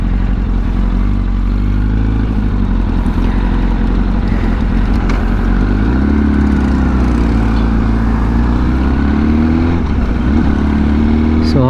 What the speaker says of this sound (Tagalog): gamit ko ngayon ibang motor gamit ko ngayon. Ito yung ating si Yamaha R1.